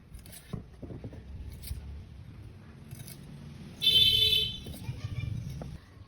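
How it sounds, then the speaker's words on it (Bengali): Vegetable stems (data shak) being cut one by one by hand, with scattered snips and soft knocks among quiet background noise and a brief metallic ringing burst midway. "তো ডাটাগুলো এখন আমি কেটে নিব।"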